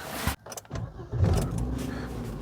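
A Volvo S80's five-cylinder engine cranks briefly and catches, then settles into a steady, close idle hum with no talking.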